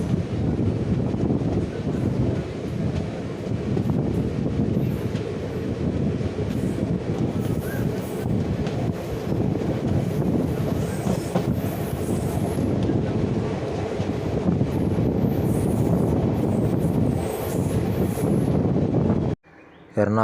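An Indian Railways train runs near Thrissur past Punkunnam, branching off the main line toward Guruvayur, with a loud continuous rumble, rattling wheels and clatter over wind buffeting, the noise cutting off abruptly at the end.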